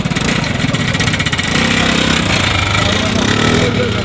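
A McLaren 675LT sports car in chicane gray revs nearby, giving a loud, rough, pulsing engine note that holds steady and rises slightly, with voices mixed in.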